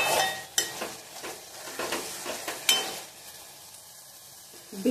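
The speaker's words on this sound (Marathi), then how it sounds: "आपण एकदा हलवून घेऊयात." Guar bean sabji is stirred in a pan: several distinct scraping strokes of a spoon against the metal over a soft sizzle, with a lid or utensil clink at the end.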